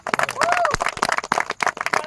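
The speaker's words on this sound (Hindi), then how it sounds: "दीपक सर के लिए जोरदार तालियां।" A crowd claps in quick, irregular bursts, with a voice speaking over the applause.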